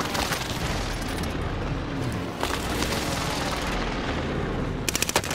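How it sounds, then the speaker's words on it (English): Airstrike explosions in Call of Duty: Modern Warfare, a dense continuous rumble of blasts and gunfire that stays loud throughout and ends in a few sharp cracks, with no talk. "Prepare for airstrike."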